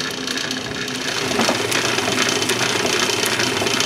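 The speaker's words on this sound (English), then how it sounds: "I'll show you a little bit about how the shaper actually operates." A metal shaper machine runs with a steady mechanical whir and regular clattering ticks from its motor-driven eccentric and gearbox, fairly close and without speech.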